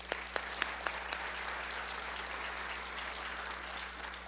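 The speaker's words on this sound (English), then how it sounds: "I think we should clap for you all." Audience applause at an awards evening for young professionals, a steady mass of clapping with a few sharper claps standing out at the start, over a low constant hum.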